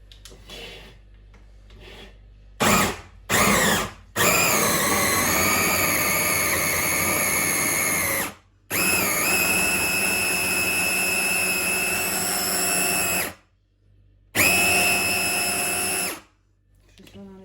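A handheld power tool used for quick plastering runs in long loud whining bursts with short pauses between them and a few brief starts at first, with occasional talk over it.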